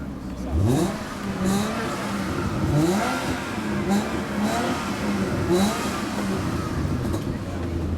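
An unrestored 1951 Aston Martin DB2 engine cranks and revs in repeated bursts, climbing and falling in pitch, with voices faintly in the background; moderately close and rough.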